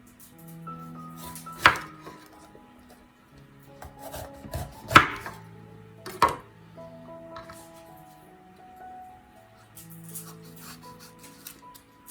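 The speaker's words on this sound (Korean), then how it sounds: "나머지 야채를 썰어줍니다." A knife chopping the remaining vegetables for nabak kimchi on a cutting board, a few sharp, loud knocks spaced seconds apart amid quieter scraping and handling, close by with no talk.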